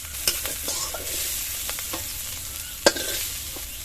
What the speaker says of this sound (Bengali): চিংড়ি মাছগুলো এরকম লাল করে ভেজে নিয়েছি, তুলে নেব।